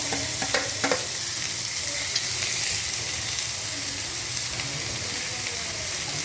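Chopped onions sizzle and fry in hot oil with rice and dried red chillies, a steady loud hiss with a few scraping stirs near the start and no talking.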